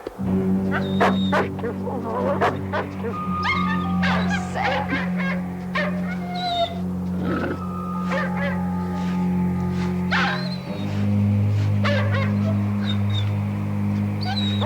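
Several wolves bark, yip and whimper close by, in repeated sharp calls and whines heard over a steady outdoor drone.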